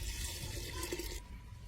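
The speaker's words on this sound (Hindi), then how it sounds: "3 से 5 लीटर इसमें पानी आपको मिक्स करना है।" Water pours into a clay pot holding lime in an outdoor farming setting, a soft, steady splashing stream that stops after about a second, leaving faint ambient noise.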